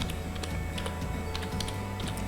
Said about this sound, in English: you can just type the URL, the basic URL like